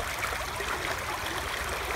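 Honey Creek in Morgan Monroe State Forest, at the edge of the Low Gap Nature Preserve, runs full at sunrise, giving a steady, continuous rush and burble of flowing water that holds even and close throughout.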